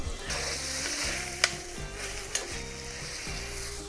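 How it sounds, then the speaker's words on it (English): Asparagus spears sizzle steadily in a hot pan, cooked fast à la minute, with a constant frying hiss, repeated stirring and tossing strokes, and a couple of sharp light clinks. "So that is asparagus. Prepped, turned, cooked in a pan"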